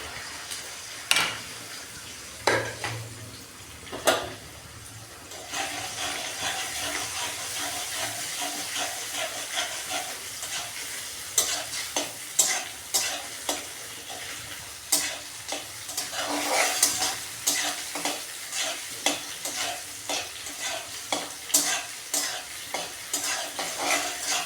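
Two eggs frying in a pan with Maggi noodles for a quick hostel-style fried Maggi, a steady sizzle broken by repeated sharp scrapes and clacks of a spatula stirring close by.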